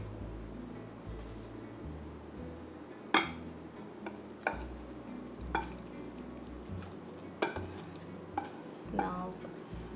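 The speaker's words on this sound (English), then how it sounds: "next up, we're going to stir in the vegetables" A spoon scrapes and clinks against a bowl while chopped mushroom and spinach are folded into a quiche filling, with soft irregular knocks and quiet scraping at close range over a low background hum.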